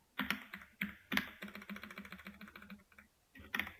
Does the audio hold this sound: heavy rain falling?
no